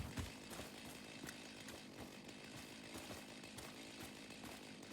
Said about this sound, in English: I forgot about area mode. The chainsaw.